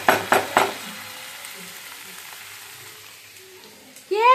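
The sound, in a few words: tomatoes frying for chicken darbari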